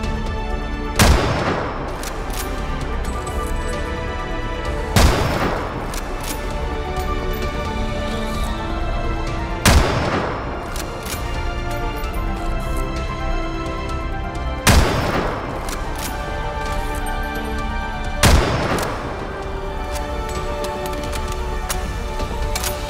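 Sniper rifle shots in the video game Ghost in the Shell: Stand Alone Complex – First Assault Online, five loud booming reports spaced about four to five seconds apart over a constant ambient game bed.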